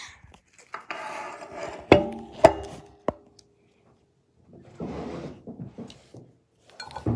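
Oreo cookies being mixed and smashed in a mug, irregular scraping, crunching and sharp clinks of a utensil against the mug, bursts of activity separated by quiet pauses.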